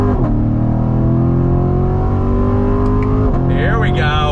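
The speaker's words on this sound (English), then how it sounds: "Hard throttle, yeah! Look at this. We're on the brakes. Nice downshift." Loud Chevrolet Corvette Grand Sport engine heard from inside the car under hard throttle, a strong rising drone that drops sharply on a downshift while braking, then picks up again, with excited talk over it.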